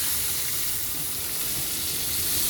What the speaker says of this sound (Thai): ใส่น้ำไปนิดนึงครับ